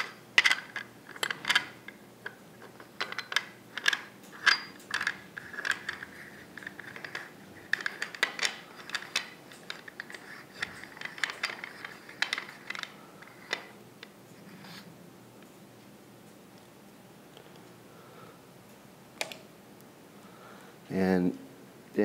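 A CineMilled adapter is spun onto a Ronin Mitchell mount and tightened. Close, light metallic clicks and ticks come in quick bursts, thin out midway, and end in a brief louder rattle.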